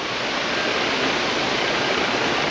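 Stream water rushing at a trekking water crossing on the Pokhara to Ghandruk trail, a loud, dense, unbroken hiss of churning water close by, with no voices.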